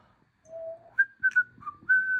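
A person whistles a short tune of a few clear, sustained notes rising and falling, heard nearby and fairly quiet indoors, with no talking.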